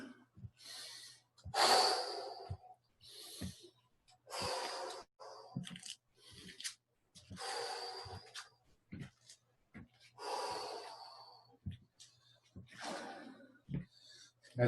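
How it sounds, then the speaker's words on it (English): Heavy, forceful breaths during a senior men's fitness class come in repeated bursts, each a loud rushing exhale or inhale roughly every second or two, close up, with a faint steady hum beneath. "Nice good breathing."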